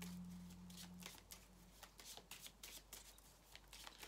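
A deck of cards is shuffled close up with quick riffling and flicking bursts, fast and regular, then gets quieter as a card is drawn. The sound is soft, with a low hum underneath and no talking.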